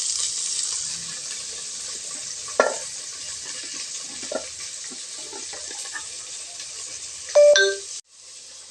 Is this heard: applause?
no